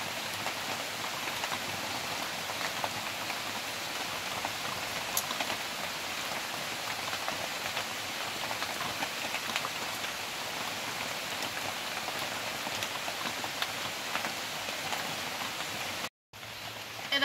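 Chhana jilapi deep frying in hot oil gives a dense, steady sizzle like heavy rain, continuous and fairly loud with no talking, cutting off briefly near the end.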